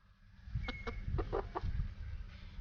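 A chicken clucks in a short run of sharp, close calls while its wings are being clipped, over low handling and rustling noise.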